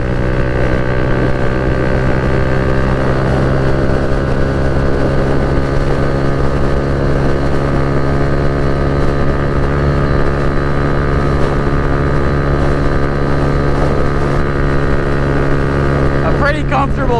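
Kawasaki Z125 Pro motorcycle held at full throttle around 60 mph on a highway, a steady buzzing engine drone under heavy wind rush, recorded close from the rider's position.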